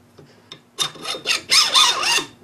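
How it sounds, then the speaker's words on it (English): A suppressor sliding over the barrel of a Sterling 9mm rifle gives a close, scraping metal-on-metal rub, first a few faint taps and then a run of louder rasping strokes, with no talk. "slide it over the barrel"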